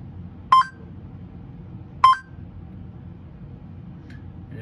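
A LEGO SPIKE Prime hub gives two short, sharp electronic countdown beeps about one and a half seconds apart over a low background hum, with a faint third blip near the end.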